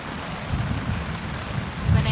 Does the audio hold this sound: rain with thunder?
yes